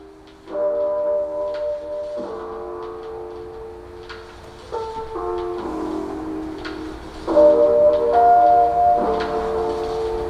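Loud, bassy music plays from the small speakers of a Samsung Galaxy Fold phone, with sustained tones changing in blocks and a slight buzzy edge.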